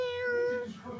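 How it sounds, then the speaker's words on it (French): A second pet cat meows once, close and clear, a short tonal call that rises and then fades, with some faint room noise after it. "Elle aussi, elle fait miaou."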